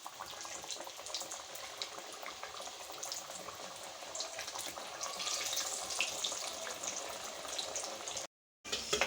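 Chicken samosas frying in hot oil give a steady, dense crackling sizzle throughout, fairly loud and close, with a brief gap near the end before the bubbling resumes.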